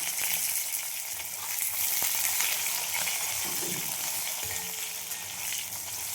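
Thinly sliced potatoes fry in a pan of oil with black cumin seeds, making an even, continuous hiss and sizzle with a few faint spoon touches, and no voices.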